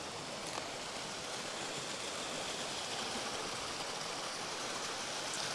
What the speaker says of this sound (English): And all this cascading water.